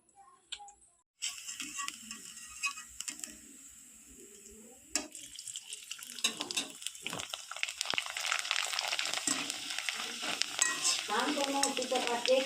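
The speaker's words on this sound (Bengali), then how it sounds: "কড়াইয়ের মধ্যে আমি তেল দিয়ে দিয়েছি এরপর চিপসগুলো দিয়ে দেব" Rice flour chips frying in oil in a wok, starting quiet then building into a steady crackling sizzle that grows louder and busier toward the end, with occasional stirring clatter and no talk.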